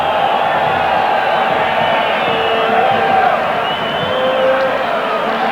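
A huge stadium crowd of nearly 50,000 at a Brazil vs. Bulgaria international friendly football match in Campinas makes a steady, loud roar and murmur that carries without pause.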